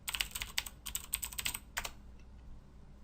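A computer keyboard typed in short quick bursts of keystrokes, close and fairly quiet, trailing off into near silence after about two seconds.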